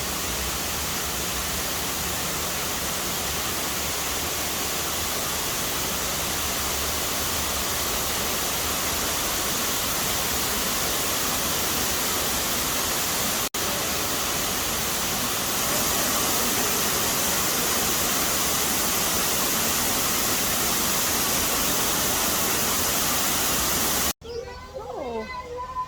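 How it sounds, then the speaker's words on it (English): Waterfall at Bird Paradise, heard as an unbroken broadband rush of falling water for most of the clip, steady and fairly loud, before cutting off abruptly near the end into quieter surroundings. "Wow, that's the falls."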